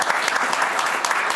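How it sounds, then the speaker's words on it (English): A small group of people clapping together, dense steady applause lasting a moment, close and fairly loud with no cheering. "We all want to clap, so we're just going to clap."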